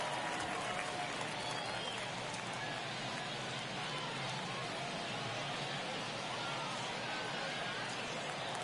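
A packed baseball stadium crowd in a video game roars steadily through a tense ninth inning of a one-run game, a dense, unbroken wash of cheering that holds at an even level throughout.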